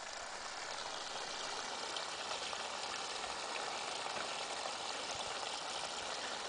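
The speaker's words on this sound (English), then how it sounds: "Water from the runoff of the rain." Rain runoff flows through a wooded rural spot as a steady, faint, broadband rush of water that continues without any break.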